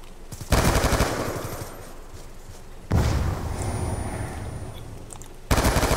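Rapid automatic fire from an M27 rifle in a fast-paced first-person shooter game, loud bursts at the start, middle and end with a dense rattling stream of shots between them.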